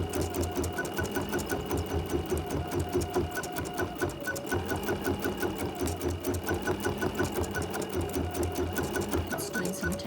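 A sewing machine running fast and close, its needle hammering in a steady rapid rhythm while stitching tack-down and satin stitches on a quilted mug rug, with a faint voice underneath.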